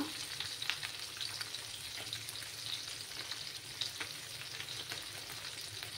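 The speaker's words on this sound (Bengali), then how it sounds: "আমি দুইটা বেছে মাছগুলো ফ্রাই করে নেব।" Pabda fish, a soft freshwater catfish, frying in a pan of hot oil, giving a steady close sizzle with small crackles and occasional spatter pops throughout, no talking.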